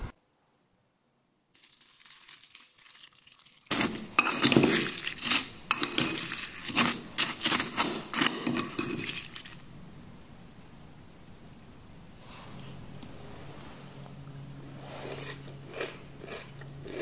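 Milk poured onto Kellogg's Extra Collection carajillo-flavor cereal in a bowl, then crunchy chewing and spoon clinks, close and fairly quiet, with a short louder stretch of crackly pouring and crunching before softer eating sounds.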